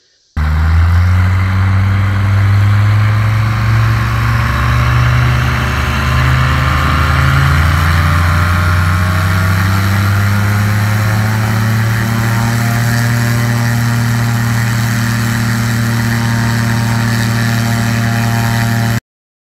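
A Rotax 915iS/916iS aircraft engine turning an 80-inch STOL propeller runs up to high power, a loud steady roar whose pitch slowly climbs and then holds, with heavy prop blast and no talk.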